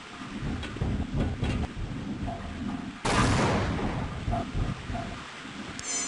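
Booming explosions in the video game Half-Life: Opposing Force roll through a dense, rumbling soundscape, with one sharp, loud blast midway that keeps rumbling afterward.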